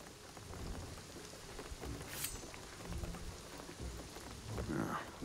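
Rain falls steadily on a beach in Shadow of the Tomb Raider, a continuous soft patter filling the background, with faint voices murmuring underneath.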